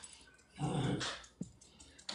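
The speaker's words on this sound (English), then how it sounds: "Ooh, I heard a puppy." A puppy heard as a short whimpering, growly vocal burst followed by a few brief yelps, faint and somewhat distant in a quiet indoor room.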